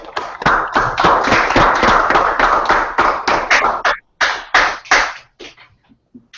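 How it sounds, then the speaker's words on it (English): A burst of applause, many hands clapping loudly and continuously, then fading into a few scattered claps and quiet. "Let's get ready to bring an applause up."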